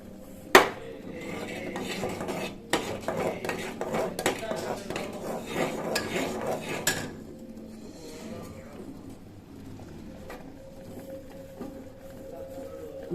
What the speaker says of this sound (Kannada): ರವೆ ಹಾಕ್ತಾ ಇದ್ದೀನಿ ತಿರು ತಿರುಗುತ್ತಾ ಹಾಕಬೇಕು ರವೆನೇ